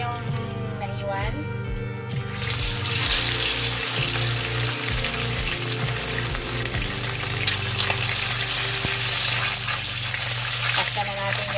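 Sliced bangus (milkfish) steak sizzles loudly in hot oil in a pan, a steady crackling hiss that swells as the pieces go in and keeps running, with a voice talking over it.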